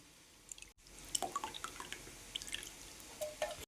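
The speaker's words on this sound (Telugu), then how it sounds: "ఇప్పుడు చింతపండు గుజ్జు తీసుకుందాం" Soaked tamarind pulp is squeezed by hand, giving faint, close wet squelches and scattered drips in a quiet kitchen.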